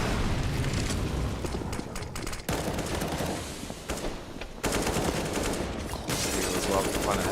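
Rapid bursts of gunfire from a CS:GO match on the Train map, loud and dense throughout, with brief pauses between volleys and faint talk underneath.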